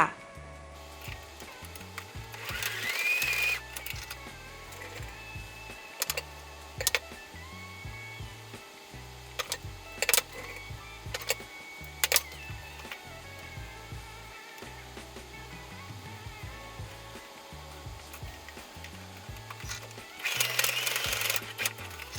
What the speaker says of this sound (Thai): เย็บปิดช่องใส่ยางยืดอีกครั้งหนึ่งนะคะ